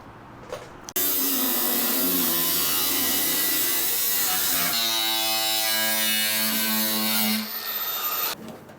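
Power tool cutting into rusty sheet metal of a Ford Dentside truck bed fender, a loud continuous buzzing whine starting abruptly, shifting pitch midway as it bites, then cutting off, close up.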